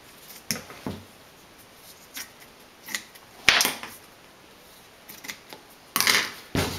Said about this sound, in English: now I'm just going to cut off the excess cotton here